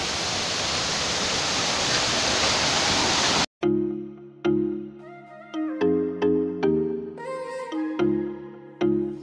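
Uway Uway waterfall in Jamindan, Capiz, roars as a loud, steady rush of water for about three seconds, then cuts off abruptly and gives way to a run of clear melodic tones.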